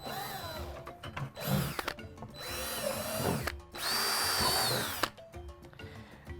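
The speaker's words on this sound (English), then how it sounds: "what we're going to do to start is we're going to drill some holes into the bottom of every bucket" Power drill with a 1/4-inch bit boring holes through the bottom of a plastic bucket, several loud whining bursts of a few seconds each with short pauses between, close up and with no voices.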